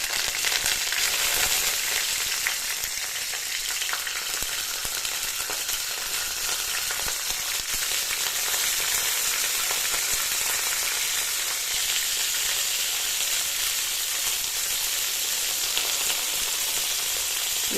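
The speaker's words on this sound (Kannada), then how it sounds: "ಸ್ವಲ್ಪ ಕ್ಯಾಪ್ಸಿಕಮ್ನ ಅಂದರೆ ದೊಣ್ಣೆ ಮೆಣಸಿನ್ಕಾಯಿನ ಎಣ್ಣೆಯಲ್ಲಿ ಚೆನ್ನಾಗಿ ಸ್ವಲ್ಪ ಫ್ರೈ ಮಾಡ್ಕೊಳ್ಳೋಣ." Capsicum fries in oil in a pan, a constant, even sizzle heard close up for a long stretch with faint stirring and no talking.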